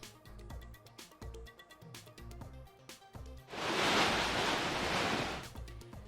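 Rhythmic music plays, then a loud roaring surge of rough Arabian Sea waves washes in for a couple of seconds before fading back.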